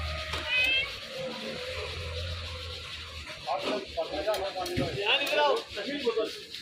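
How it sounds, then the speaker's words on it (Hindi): A cat meowing in a household with cooking going on, a few short mews under family chatter and clatter, fairly close but not loud. "यहाँ बिल्ली है"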